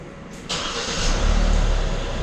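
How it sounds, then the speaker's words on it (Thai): A Hyundai Staria's engine cranks and catches after a short pause, then settles into a steady, fairly loud idle rumble close by, with no talking. "เดี๋ยวเราจะสตาร์ทรถนะครับ"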